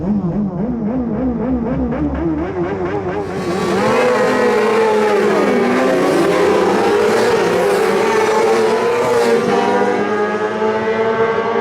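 Racing sidecars at Cadwell Park revving hard on the grid at the start of a race, several loud engines screaming together, then pitches rising and sweeping as the machines launch and accelerate away.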